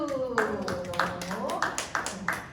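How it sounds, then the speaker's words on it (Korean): A youth group at a middle and high school church service claps in unison to cheer a friend who recovered from COVID. About six evenly spaced claps ring out clearly while voices talk and call out over them. "우리 잘 이겨낸 우리 희수에게 박수"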